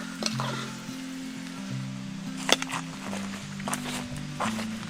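Beef tripe (botti) roast being stirred in a pan in a Kerala kitchen, a steady close sizzle with scattered scraping and clinking strokes of the spoon, no voices.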